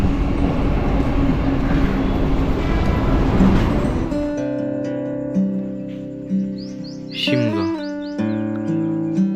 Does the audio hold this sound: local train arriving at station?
yes